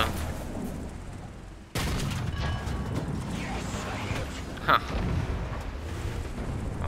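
A T95E1 tank's cannon fires in War Thunder, one sharp heavy blast at about two seconds followed by rumbling battlefield noise and a brief mechanical clank.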